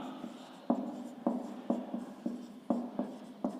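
A pen writes a name on paper in short, close scratchy strokes, about eight distinct pen strokes at an uneven rhythm, fairly faint with no talking.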